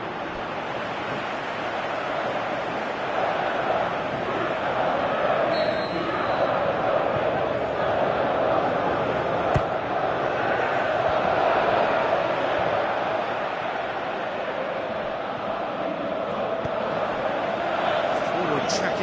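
A large stadium crowd from the football game PES 2018 keeps up a steady, dense roar throughout, with commentary voices speaking over it.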